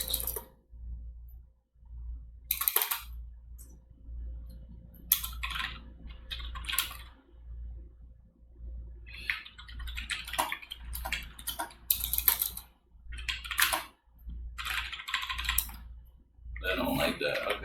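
Bursts of computer keyboard typing as a command is entered, with rapid clicking keystrokes in uneven clusters separated by short pauses, over a low steady hum.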